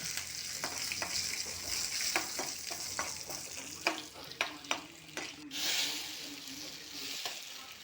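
Curry leaves in a hot tempering are poured into a finished curry, sizzling and crackling steadily with stirring clatter and a few sharp pops, close and fairly loud throughout.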